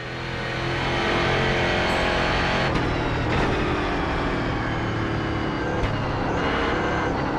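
A EuroNASCAR race car lapping Brands Hatch Indy in iRacing, its engine a loud, steady close drone after a quiet start, with brief gear-shift dips mid-lap and no talk.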